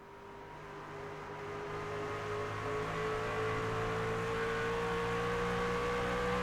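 A Chevy Silverado truck in the iRacing simulator lapping Iowa Speedway's short oval: a steady, loud engine drone that builds over the first seconds and then holds at a sustained high pitch.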